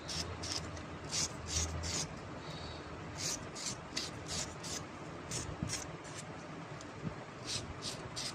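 Scraping enamel insulation off copper winding wires of a cooler or exhaust fan motor, a series of short raspy strokes in an irregular rhythm, close and fairly soft over a low background hum.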